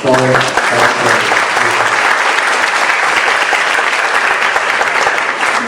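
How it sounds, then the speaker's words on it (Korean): A lecture audience at a 2011 talk by the Norwegian ramen businessman Mr. Lee bursts into loud, sustained applause that fills the hall with a dense wash of clapping, and a short musical tone sounds at the start. "박수 한번"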